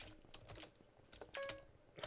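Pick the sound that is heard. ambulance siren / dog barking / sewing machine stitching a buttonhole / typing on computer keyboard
typing on computer keyboard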